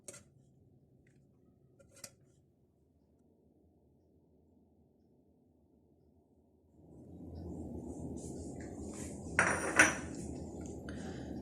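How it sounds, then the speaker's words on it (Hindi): Cooked egg fried masala rice scraped and served onto a plate, starting with a couple of faint clinks, then a steady loud scraping and shuffling of rice with a sharp metallic clatter of spoon against pan near the end. "अब इसको हम डिश आउट करते हैं"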